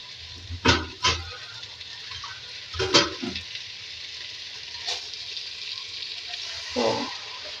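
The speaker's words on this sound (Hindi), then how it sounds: "इसमें डालूंगी थोड़ा सा पानी।" Water poured into a pan of frying taro (arbi) in a home kitchen: a few short sizzling, splashing bursts over a low, steady frying hiss, with quieter stretches between them.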